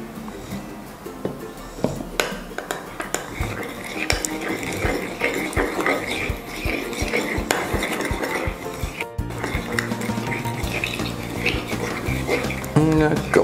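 A spoon scrapes and clinks in a pot as tomato paste sauce with soy cream and oregano is stirred, repeated uneven knocks and scrapes close by while a person talks over it.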